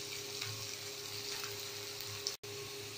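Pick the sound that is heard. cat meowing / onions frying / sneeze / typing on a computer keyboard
onions frying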